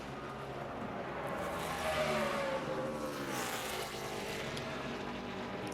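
A NASCAR Sprint Cup stock car at Phoenix first practice runs through a corner, its engine a steady mid-distance roar that swells slightly and then holds, with no voices over it.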